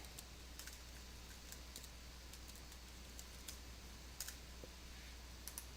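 Light, quiet keystrokes tapping on a computer keyboard while entering a price into a lab form, sparse scattered clicks over a steady low hum, with no talking.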